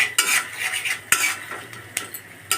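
Chili powder and cumin powder, with a splash of water, are stirred and fried in a pan. Close, crisp scraping strokes come every second or so over a soft sizzle.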